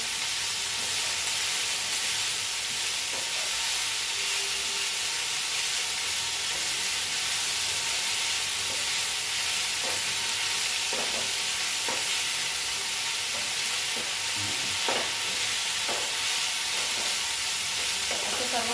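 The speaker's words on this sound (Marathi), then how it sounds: "छान मिक्स करून घ्यायचे शेवग्याची पानं तसेच जे साहित्य आपण टाकले आहे याचे।" Moringa leaves with spices being stir-fried in a pan give a steady, close sizzle and hiss throughout, with soft scraping stirs breaking through at intervals.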